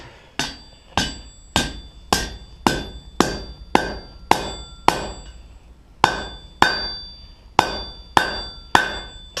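A hammer strikes hot steel while a forged fire poker is bent over, each blow ringing sharply at an even, unhurried pace, with about fifteen close, loud hits and one short pause partway through.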